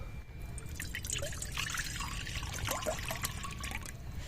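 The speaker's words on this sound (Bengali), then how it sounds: "পাস্তা সিদ্ধ করার জন্য জল দিয়ে দেব" Water pours and trickles steadily into a pot on the stove, filled to boil pasta for a white sauce dish, with a continuous splashing stream and a low background hum throughout.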